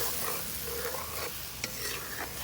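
Fish and potatoes fry in a pan outdoors, a soft steady sizzle with a few light scraping stirs and clinks near the end, no talking.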